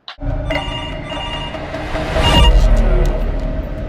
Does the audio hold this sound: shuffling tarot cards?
no